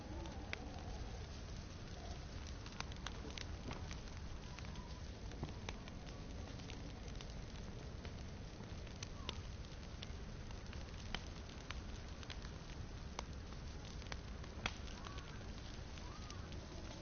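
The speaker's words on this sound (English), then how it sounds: "It's raining again." Steady rain patters in a survival video game, a soft even hiss of drops with faint scattered ticks, continuous and fairly quiet throughout.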